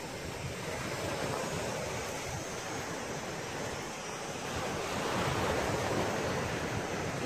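Sea waves wash steadily onto a beach as continuous broadband surf noise with light wind, a constant moderate wash that swells slightly toward the end, with no voices.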